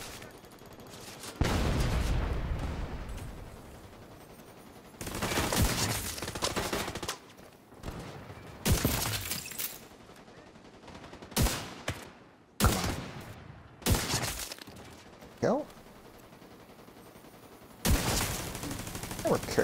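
Gunfire rattles through a Division 2 shooter match, loud bursts of rapid shots arriving in irregular clusters separated by quieter gaps, with occasional speech mixed in.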